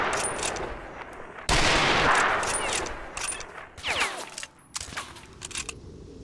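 Several heavy rifle shots in the STALKER: Shadow of Chernobyl video game, with loud blasts and tails spaced irregularly across the stretch.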